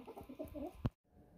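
Hens squabble over pecking order, giving a few short, quiet clucks close by, one sharp burst at the end and then near silence.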